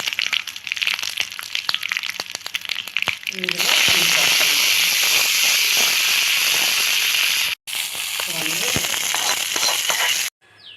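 Curry leaves and a chili broken in two hit hot oil with urad and chana dal tempering for a drumstick leaves chutney, giving a loud, close, sustained sizzle and crackle after some earlier pops, with speech around it.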